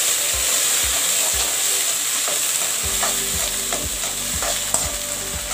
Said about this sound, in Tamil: கீரையை நல்லா வதக்கிக்கலாம்.